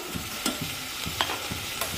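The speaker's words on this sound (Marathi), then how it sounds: "हे चिकन मी सतत परतून घेतलेलं आहे।" Chicken is stir-fried in a pot, with a continuous sizzle broken by repeated scraping strokes of a spoon against the metal at a steady pace, close and alone.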